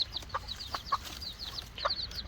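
A Serama miniature chicken pullet makes soft, quiet clucks, a few short calls spaced irregularly over faint background noise.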